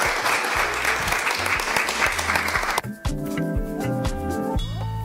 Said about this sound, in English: So please give a big applause to Dzera,